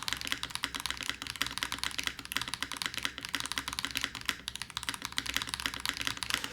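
Typing on a Razer BlackWidow 75% keyboard with a plastic sound profile: a steady, close stream of rapid key clacks and taps with no pauses, loud and unaccompanied by speech.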